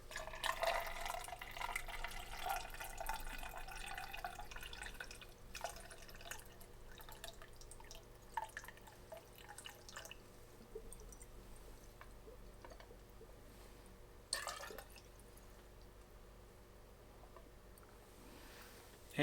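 Coolant trickling and dripping into a PC water-cooling loop as it is filled, a faint, steady run of small watery drips and splashes with a low background hum throughout.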